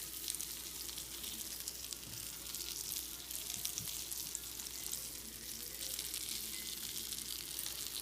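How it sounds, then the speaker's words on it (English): Pieces of flour-coated, seasoned venison sizzle in a frying pan on medium-high heat, a steady, close hiss and crackle that continues evenly for about eight seconds with no voices. "place these pieces of venison coated with flour and seasoning in the pan"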